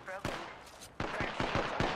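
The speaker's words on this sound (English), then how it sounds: "I think I'm being shot at, guys" Apex Legends firefight: sharp gunshots crack out in short irregular bursts at fairly close range, some faint voices mixed in.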